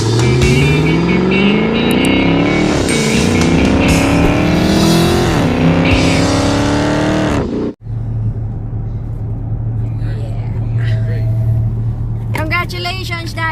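A Dodge Hellcat's 717-horsepower supercharged engine roars loud and close, climbing through several hard revving pulls, then cuts to a steadier low rumble, with a brief rising sweep near the end.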